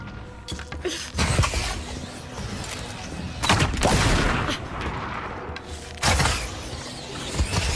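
Bursts of rapid gunfire from a shooting video game crackle loudly in several heavy volleys, with a steady noisy bed of game sound between them.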